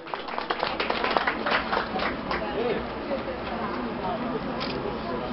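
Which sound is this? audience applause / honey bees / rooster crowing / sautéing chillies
audience applause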